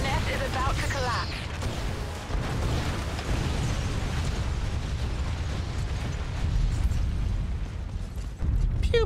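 Video game gunfire and explosion as a nest is blasted open, a loud, sustained rumbling burst with crackling debris over several seconds, layered with someone talking over the game audio.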